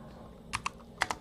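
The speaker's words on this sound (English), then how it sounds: "Let's type ls, and I'll look at all of the files in my home directory." Four quick, crisp key clicks on a computer keyboard in two short pairs, close and fairly quiet, typing a short command in a Linux terminal.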